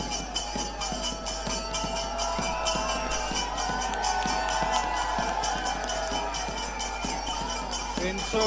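A large outdoor crowd at a Jannayak Janta Party rally in Hisar claps and cheers to welcome Dushyant Chautala, a steady loud roar with rhythmic sharp claps throughout.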